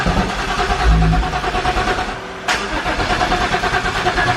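Car engine turning over after a turbo repair, a loud close mechanical cranking and rough running with a brief break midway before the churning resumes, no clean catch to a steady idle.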